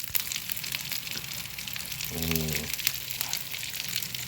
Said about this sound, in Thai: เดี๋ยวผมใส่ปลานะครับ